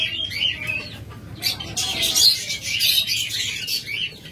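Pet lovebirds, budgerigars and cockatiels chirp and chatter in a cage, a busy overlapping mix of high tweets and squawks, close and fairly loud, rising to a denser burst midway.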